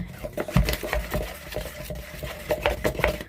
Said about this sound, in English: You just keep stirring until it's nice and smooth and there's no lumps and it all looks well mixed.